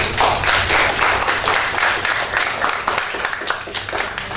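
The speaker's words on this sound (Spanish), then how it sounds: "Un fuerte aplauso, por favor." An audience at a cardiology lecture breaks into warm applause to welcome the speaker, with loud, sustained clapping and sharp individual hand claps that thin out slightly toward the end.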